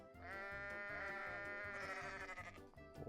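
A sheep bleats loudly and continuously for about three seconds from a sheep video, a long wavering cry that trails off with a few shaky pulses at the end.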